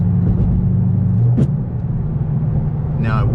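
Ford Mustang GT with a broken transmission idling and shifting down, a steady low engine rumble with a brief mechanical whine partway through and a short higher squeal near the end.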